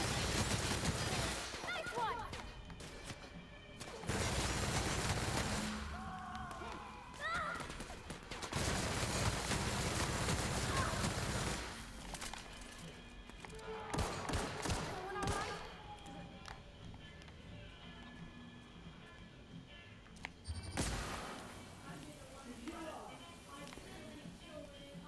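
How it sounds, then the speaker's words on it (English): Loud bursts of gunfire from The Outer Worlds shooting people, several heavy volleys separated by quieter stretches with game sounds and talk in between. "I'll just shoot some people."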